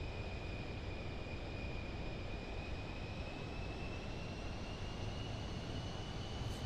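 A Pilatus PC-24 business jet flying in Microsoft Flight Simulator 2024, a steady, even engine roar and rushing air with a thin high whine held throughout, no voices.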